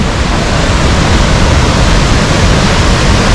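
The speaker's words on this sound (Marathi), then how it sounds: "नदीचा प्रवाह बघा जो स्पीड धारण केलेला आहे ना" A fast-flowing mountain river near Kedarnath temple, its swollen current rushing steadily and loudly with a dense, constant roar and no pauses, nobody speaking over it.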